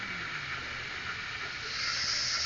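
Noisy sizzling from someone cooking in a home kitchen, a steady broad hiss like frying that swells slightly louder toward the end, heard alone without talk.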